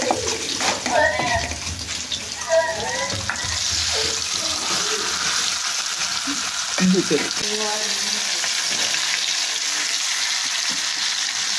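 Marinated BBQ meat frying in mustard oil in a home kitchen, a steady loud sizzle running throughout with clattering stirs and scrapes of a utensil in the pan.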